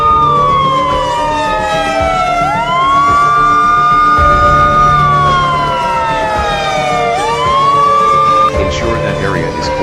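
Wailing fire truck and ambulance sirens at an emergency evacuation drill, loud and continuous, with overlapping sweeping tones rising and falling over a steady engine rumble.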